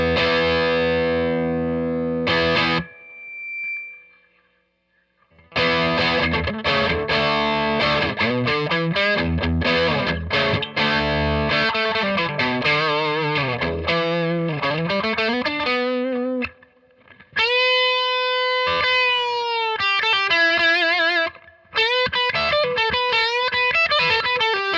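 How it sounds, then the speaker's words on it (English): An electric guitar made by Grote, played through a Proco Rat distortion pedal with the gain about a quarter up, rings out in loud, gritty chords and bent single notes, with a few brief pauses between phrases. "this is the Rat, Proco Rat, and I've got the distortion on, about a quarter of the way"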